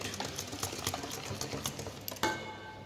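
Cake batter being stirred with vanilla essence in a bowl, a steady soft rhythmic scraping and clicking of the spoon against the bowl, close and continuous, ending with a louder knock.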